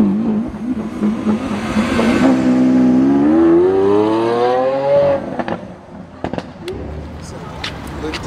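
A car engine revs up loudly and climbs in pitch, holding a rising roar for a few seconds before dropping off, with sharp pops and crackles afterward at a busy spring break street scene in Miami.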